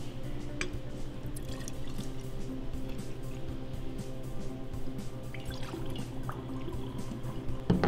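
Pierre Ferrand dry curaçao orange liqueur trickles from a bottle into a jigger or glass, a thin continuous dribbling pour with small drips, close and quiet over a faint room hum.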